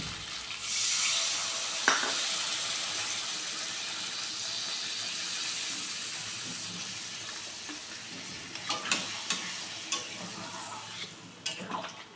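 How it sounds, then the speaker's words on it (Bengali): Water pours into a hot pan of sautéed potato and pointed gourd curry, setting off a loud, steady steaming hiss and sizzle that lasts throughout, with a few sharp spoon clinks and scrapes near the end. "বন্ধুরা কষানো হয়ে গেছে এবার আমি জল দিয়ে দিচ্ছি"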